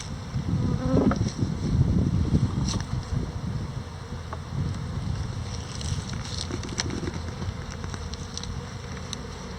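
Honeybees buzz in a steady, dense hum around an opened beehive during inspection, the drone continuous and close with a few brief clicks and knocks of hive frames, and no talking.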